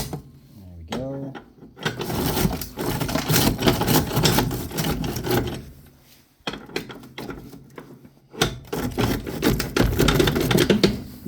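A woodstove grate is cranked back and forth to shake soot and ash down, producing bursts of rapid metallic rattling and clattering, close and fairly loud, with short pauses between rounds.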